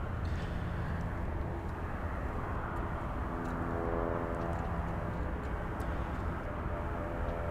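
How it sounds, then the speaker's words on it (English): A Beechcraft 1900 twin-turboprop airplane flying in to land, a steady droning engine hum with a faint whine, heard at a moderate distance and fairly quiet, with no talking. "this one flying in from, let's see, it's a Beach 1900"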